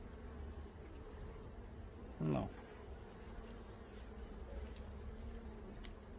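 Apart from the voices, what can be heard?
honeybees buzzing at the hive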